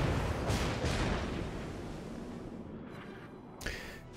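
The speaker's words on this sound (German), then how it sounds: "Ich schieße jetzt tatsächlich auch mal mit AP" The St. Louis cruiser in World of Warships fires armor-piercing shells, heavy booming salvos that roll out into a rumbling tail, with a couple of sharper bursts later on.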